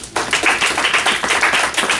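Audience at a Yom Kippur morning service clapping together, a steady dense patter of many hands lasting throughout, fairly close and moderately loud with no talk over it.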